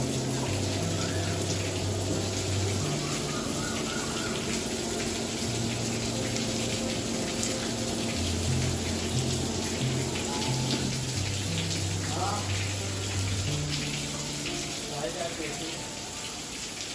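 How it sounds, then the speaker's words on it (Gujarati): A small waterfall at a temple pours in a steady, close splashing stream, with a low hum and a few brief sounds mixed in behind it. "અત્યારે ધોધ પડી રહ્યો છે."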